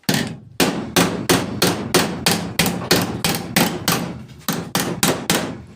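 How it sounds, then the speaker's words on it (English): A hammer tapping a hand-formed sheet metal patch panel for a limousine roof: a steady series of sharp, ringing metallic strikes about every half second, close and loud, with no talking. "I'm trying to think which hammer I want to use."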